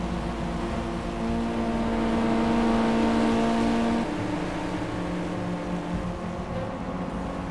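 A pack of 25 race cars laps the Spa circuit in the Project Cars video game, with a steady, loud engine drone and revving tones that rise and hold before easing off.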